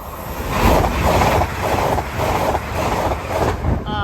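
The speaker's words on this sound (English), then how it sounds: "Next service pass through is the LUMO service off to London King's Cross from Edinburgh" A LUMO passenger train on the Edinburgh Waverley to London King's Cross service passes Hett Mill level crossing. It gives a loud, steady broadband roar with rhythmic swells, mixed with wind buffeting the microphone.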